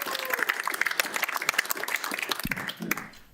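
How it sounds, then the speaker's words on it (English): An audience at a resident council meeting applauds in a brief, dense burst of clapping that holds steady for about three seconds before thinning out. "So I think they deserve some applause."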